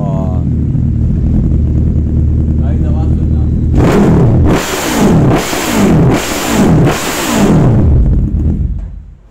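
A superbike's aftermarket exhaust: the engine idles steadily, then revs hard four or five times in quick bursts, loud and close, each rev rising and falling back.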